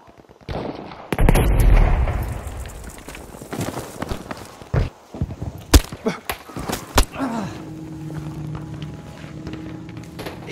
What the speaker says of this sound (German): Granate kommt!